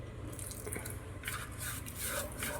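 Water pours and splashes into a container in a short trickling stream, over a low steady hum in the background.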